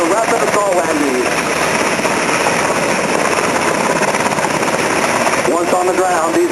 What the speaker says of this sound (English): UH-60 Blackhawk begins a strafing run to neutralize enemy positions on the airfield.